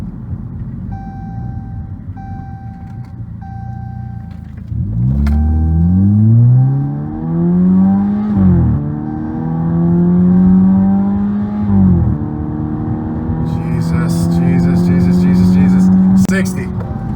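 A 2015 Chrysler 200 with a 2.4L engine accelerates hard from a stop to 60 mph, its loud engine note climbing steadily through several gear shifts, with brief pauses between each rising sweep.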